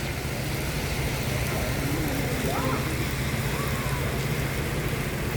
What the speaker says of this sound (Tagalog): Ayun, kahit umuulan